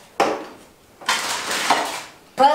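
Kitchen pots, pans and dishes clatter and rattle in three separate bursts of handling, sharp metallic knocks and scraping up close, with no talking.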